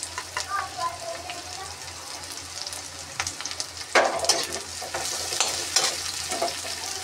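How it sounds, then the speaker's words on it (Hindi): Onion and green onion hit hot mustard oil in a pan as veg chowmein is made, giving a steady close sizzle with a louder burst as they drop in, followed by scraping stirs and light clatter. "तेल अब अच्छे से गर्म हो चुका है, अब इसमें डाल देंगे प्याज।"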